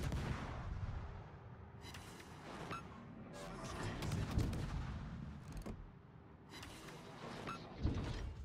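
Warship guns fire in the World of Warships naval battle game, a series of booming salvos spaced a second or two apart. The blasts are fairly quiet and set over a low rumbling background, with no talk.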